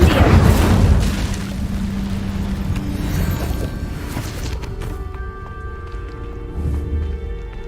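An Incendio fire spell in Hogwarts Legacy erupts with a loud whooshing roar that burns strongest in the first second, then settles into a sustained rumbling bed with tonal game ambience layered over it; no voices.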